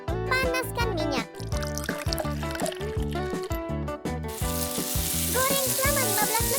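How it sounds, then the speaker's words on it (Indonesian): Chicken thighs coated in flour fry in hot oil for crispy chicken, a steady sizzle heard under loud, busy background music, with the hiss growing brighter toward the end. "Goreng selama 15 menit."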